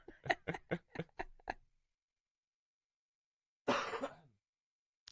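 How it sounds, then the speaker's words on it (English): A quick run of harsh coughs or throat-clearing bursts, close and fairly quiet, followed after a pause by one longer rasping cough. "Yes, I still have the cough."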